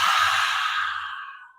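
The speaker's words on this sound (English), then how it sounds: "breathe into your nose, big inhale, and then push it out through your mouth really loud" A single loud, breathy exhale through the mouth, close and forceful, fading out over a second or so.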